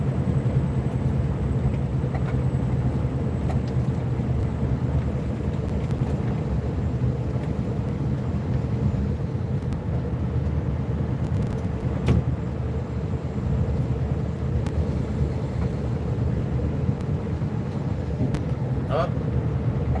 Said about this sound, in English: I'm going full speed, 30 kilometers per hour. That's all my 600 horsepower truck managed.